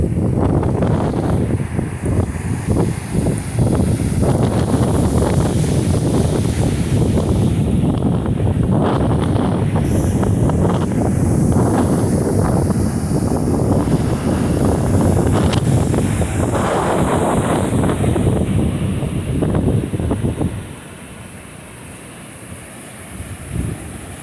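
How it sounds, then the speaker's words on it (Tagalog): Strong storm waves crash along the shore at Oroquieta City during the landfall of storm Kabayan, a loud continuous roar of surf mixed with heavy wind buffeting, easing near the end. "Isog kayo mga balod guys, oh."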